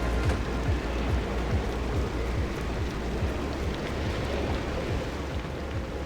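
Steady, dense rain pours down in the game Pacific Drive, a loud continuous hiss of drops with a low rumble underneath, heard alone without any voices.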